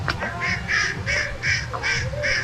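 Ducks quack in a steady series of short calls, around six evenly spaced bursts, heard at moderate distance outdoors at a home with birds and dog kennels near Bandung, with faint background noise underneath.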